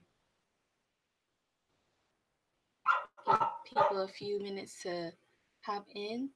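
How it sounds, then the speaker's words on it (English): A dog barks a few times close by, overlapping with a person speaking. "Sorry about the dog barking."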